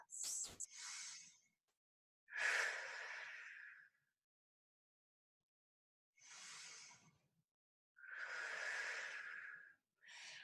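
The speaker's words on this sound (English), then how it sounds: "Take 2 deep breaths." Heavy, deep exercise breaths during a floor stretch, knees hugged to chest: a quick sharp intake, then three long, loud exhalations separated by silent pauses.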